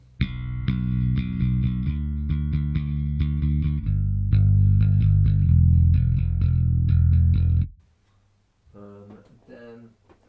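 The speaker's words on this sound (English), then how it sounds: "Just the Darkglass." A bass guitar played through a Darkglass pedal rings out in a steady run of plucked notes, thick and growling with a gritty upper edge, loud and close, then stops abruptly and leaves a brief quiet tail with some faint noise.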